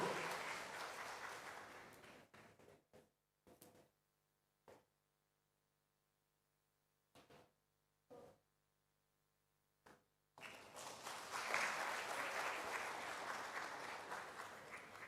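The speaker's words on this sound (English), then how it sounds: "Ladies and gentlemen, please give a round of applause for the students of UT Bandung." Audience applause at a conference for students performing a dance: a loud burst of many hands clapping that breaks off into a near-silent gap with a few stray claps, then swells back strongly and continues.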